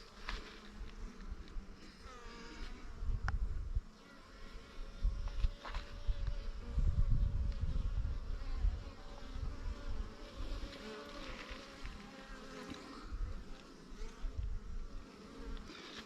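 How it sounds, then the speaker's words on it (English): A bee buzzes near a beekeeper's hive, its drone rising and fading as it moves around close by, persisting through the whole stretch with some rustling in the background. "Got a bee on that one."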